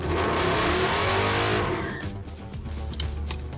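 The Roadkill muscle truck accelerates hard on a road, its engine roaring loudly and close before the revving drops away into a lower, steadier drone as it passes.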